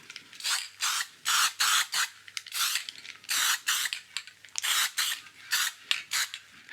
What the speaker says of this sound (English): I'll give it a spray with this silver